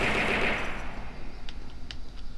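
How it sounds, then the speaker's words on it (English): An auto cannon fires in a video game during weapon and armor testing: a loud burst of rapid, noisy shots with a few sharp impacts trailing off. No one speaks. "And then we've got this auto cannon"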